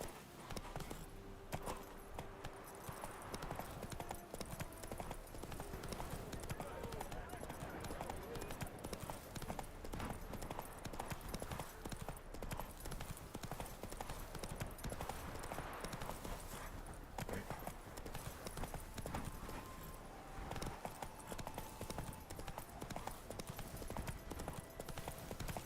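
Roach, Geralt's horse in The Witcher 3, gallops with a continuous, even clatter of hoofbeats that runs the whole way through at a soft, distant-sounding level.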